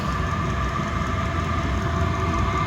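A Chinese diesel heater fired up for the first time, exhaust routed through a wall, runs with a steady, close combustion drone and fan hum, even and unbroken throughout.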